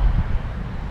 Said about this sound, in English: It's actually pretty windy, man.